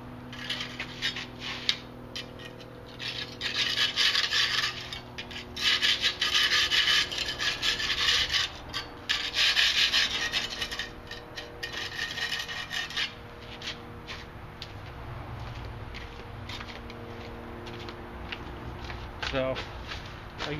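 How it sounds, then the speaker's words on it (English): A scraper rasps repeatedly across a concrete block wall, scraping off excess Gorilla Glue in rough bursts, while someone talks throughout. "My scraper to scrape off most of the excess glue"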